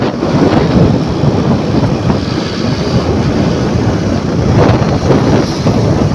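Steady rain at night, heard from a moving motorbike with wind buffeting the microphone, a dense, continuous wash of noise with low rumbling gusts, loud and unbroken, no talk.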